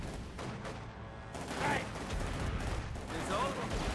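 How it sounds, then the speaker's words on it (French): Dense gunfire rattles through a World War II battle in the strategy game Company of Heroes 2, with rapid bursts of rifle and machine-gun fire layered over a constant loud combat din. "On reçoit des tirs."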